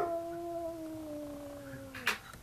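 A mean cat gives a long, drawn-out growling meow with a steady falling tone, then a short sharp hiss or spit at the end, close and clear.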